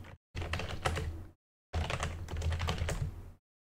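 Two bursts of rapid clattering keystrokes on a computer keyboard during a speedrun of the game Hugo's House of Horrors, close and dry with a short pause between them, no talk.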